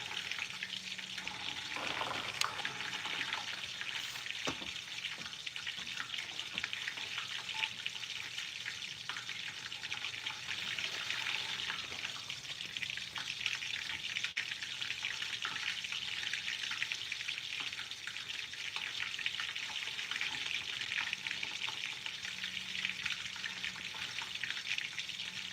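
Plastic-to-gasoline distillation apparatus bubbling and sizzling, a constant fizzy crackle with scattered pops and occasional drips, moderately loud and steady for about 25 seconds, no talking.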